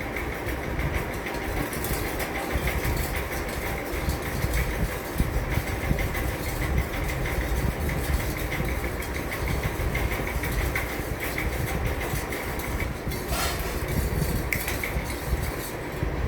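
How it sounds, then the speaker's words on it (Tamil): A spoon stirs sherbet drink in a glass, giving faint clinks over a steady, dense background rumble that runs the whole time. "இப்போ சர்பத் ஊற்றியாச்சு, நம்ம நல்லா மிக்ஸ் பண்ணிக்கலாம்."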